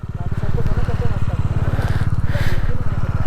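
A motorcycle engine labours with a rapid, throbbing thump while climbing Photi La pass at high altitude, loud and close throughout, with someone speaking over it.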